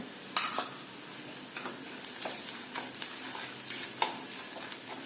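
Onions and roasted split peanuts frying in a pan for kanda poha, a soft steady sizzle broken by scattered scraping knocks of a spoon stirring against the pan, heard alone and fairly quiet.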